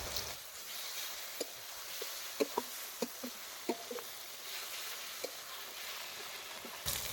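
Ground spice pastes of garlic, coriander, cumin and chili fry in a pan for egg curry with a soft, steady sizzle, broken by scattered small pops and stirring taps.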